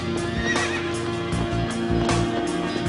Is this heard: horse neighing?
yes